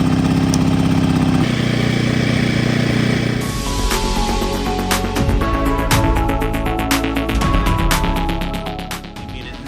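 A Predator portable generator engine running steadily nearby, a loud continuous mechanical drone that shifts in tone partway through, with sharp clicks and rattles over the hum.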